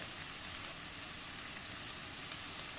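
Turmeric, Kashmiri chilli powder and chilli chicken masala powder sizzle in a pan while being stirred, a steady, faint, even hiss with no distinct strokes.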